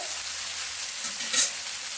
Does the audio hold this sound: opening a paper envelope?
no